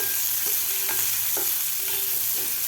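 Onion stir-fried in a pan for a peanut and raw mango chutney: a steady sizzle under repeated scraping strokes of a spatula, roughly every half second, close and clear with no voices.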